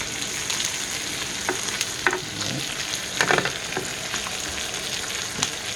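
Wagyu steak sizzling in butter in a hot skillet, a steady crackling fry with occasional sharper pops and spatters, close and continuous with no talk.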